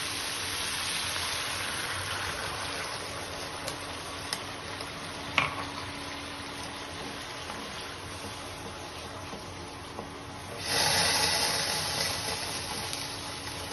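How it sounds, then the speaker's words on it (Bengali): Hot water poured into a simmering mustard pabda fish curry, a steady close sizzle and bubbling that swells into a louder rushing pour near the end. "এবার আমি এটাতে গরম জল দিয়ে দিচ্ছি"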